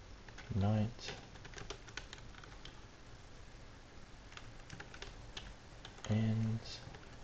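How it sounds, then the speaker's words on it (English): Slow, irregular keystrokes clatter on a computer keyboard, soft and close, with a couple of short vocal sounds breaking in. "excuse my slow typing"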